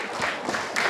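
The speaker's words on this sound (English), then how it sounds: "Give her an applause." Audience at a university program in Bhopal applauds in a brief, continuous patter of many hands, under a second long and moderately loud.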